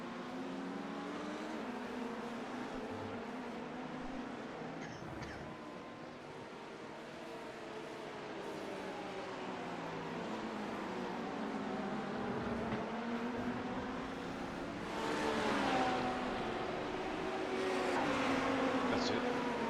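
Race car engine in a Sebring 12-hour endurance racing video game, a continuous droning roar that swells louder toward the end as the blue car approaches and passes, with no talk.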